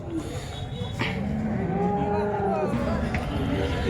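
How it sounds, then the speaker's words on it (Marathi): Cattle mooing amid a busy cattle market din in Sangola, India, after rain, several low drawn-out calls overlapping with background crowd noise, steady and fairly loud throughout. "आपण बघू शकता शेतकऱ्याची गाय"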